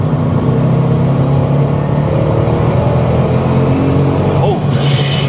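Supercharged 600+ hp SEMA-built Procharged Ford Mustang GT pulling hard under throttle, a loud continuous engine roar heard from inside the car, holding steady with no pauses.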